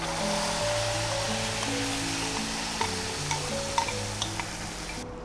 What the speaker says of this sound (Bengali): এইবার আমি কুমড়োর পাল্পটা দিচ্ছি।